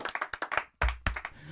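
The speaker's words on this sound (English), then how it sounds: "let's clap it up for our sponsors, boys." A small group claps for podcast sponsors, with short bursts of hand claps in uneven rhythm. A heavy low thump lands partway through, then scattered claps continue, close and moderately loud.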